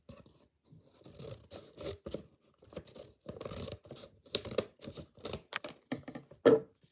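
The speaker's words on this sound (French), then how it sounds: "je vais ouvrir le sac surprise" A surprise bag is opened with scattered crinkling and tearing of paper or plastic in short bursts and pauses, close and fairly quiet, ending in a sharper rip.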